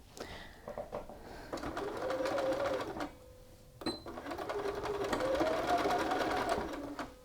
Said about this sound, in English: we are now going to stitch along the seam line through all 3 layers